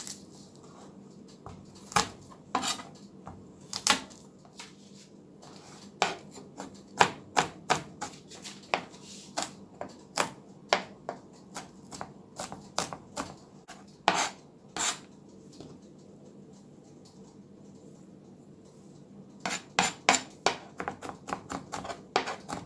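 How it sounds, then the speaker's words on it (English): Six garlic cloves crushed one after another on a kitchen board, a run of sharp, close knocks and crunches in irregular bursts, pausing midway before a final quick cluster. "Six cloves of garlic. I like to crush them first."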